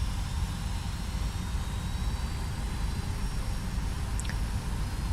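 The engines of a Boeing 757 freighter hum in the X-Plane 11 flight simulator as it starts to taxi, a steady low, broadband drone that stays even and fairly quiet throughout.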